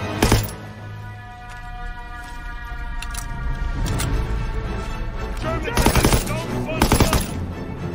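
Machine gun fire in the World War II shooter Call of Duty WWII, sharp bursts and rattling volleys with metallic clinks over a rumbling battlefield, with soldiers shouting now and then.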